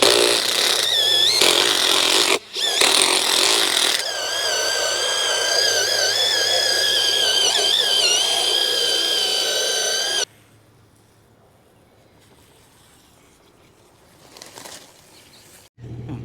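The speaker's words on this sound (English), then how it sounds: "we're going to take this cheapy Amazon wire brush thing," A loud, whining power drill with a cheap wire brush scrubs a Toyota Crown Majesta part, grinding steadily for about ten seconds, pausing briefly once, then cuts off to near silence.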